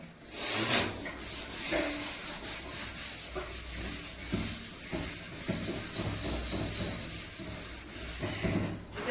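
Rhythmic rubbing and scrubbing against a large metal wok with water, wet swishing, steady back-and-forth strokes close by.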